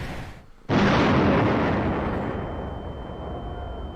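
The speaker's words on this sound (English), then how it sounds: "And then now we're shooting cannons." A single loud cannon blast booms out after a brief quiet, followed by a long rumbling roar that slowly fades.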